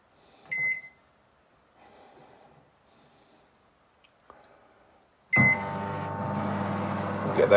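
A kitchen microwave cooking cinnamon French toast gives a short beep, then after near silence starts running with a loud, steady humming drone that continues to the end.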